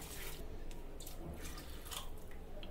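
Water poured from a glass into a cooking pot of keema (minced meat) with karela, a steady splashing pour lasting the whole moment, fairly quiet and close, with no talk.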